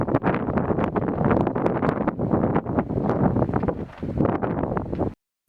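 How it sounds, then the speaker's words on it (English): Strong gusts of wind buffet a night campsite in Lesotho, roaring loudly and continuously into the microphone with rustling bursts, before cutting off abruptly at the end. "It is about 11 o'clock and it's very, very windy."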